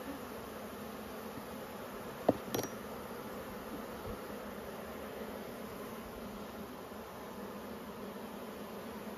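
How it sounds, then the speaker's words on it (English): Honeybees in an open hive give a steady low buzzing hum throughout, with a couple of brief clicks or knocks near the frame; no one speaks. "Very happy, these bees."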